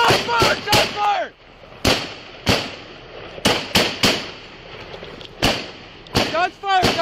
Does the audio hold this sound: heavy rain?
no